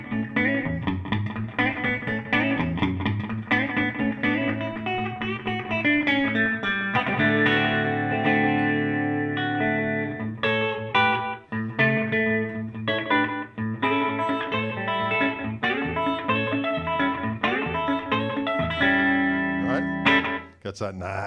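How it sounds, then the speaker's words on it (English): An electric guitar played through a slapback delay with the reverb off: picked notes and chords each followed by a single quick echo repeat, loud and continuous over about twenty seconds with no talking. "So my first preset is just a nice little slapback."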